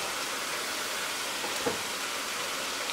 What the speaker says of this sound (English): And they're still frying in there.